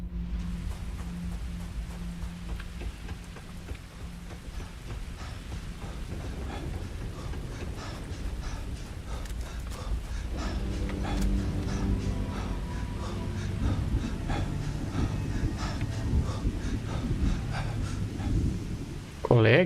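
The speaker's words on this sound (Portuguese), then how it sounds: "Tá chovendo sangue aqui?" Rain falling steadily with rumbling thunder in the video game Starfield, a continuous wash of downpour with low rolls building louder toward the end, while a voice speaks over it.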